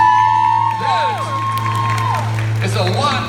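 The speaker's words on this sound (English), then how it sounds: "give them a round of applause" A crowd at a live Fear Factor stunt show at Universal claps, cheers and whoops for a contest winner, loud and close, with shouting voices and a steady hum underneath.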